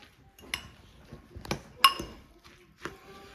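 Fork clinking against a bowl while mixing coleslaw with a dash of vinegar, several sharp, irregular clinks and scrapes close by, with quiet gaps between them.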